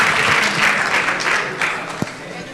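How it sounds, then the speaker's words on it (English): A room of guests at a racing event session in a hotel applauds, a loud, full burst of many clapping hands that gradually thins and softens toward the end. "Can we give them a big round of applause?"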